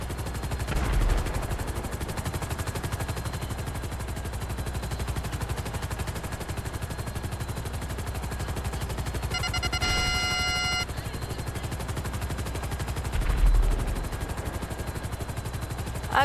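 A police helicopter in Grand Theft Auto V drones steadily through a chase, with rotor noise running continuously under sporadic gunfire and a brief tonal electronic beep midway.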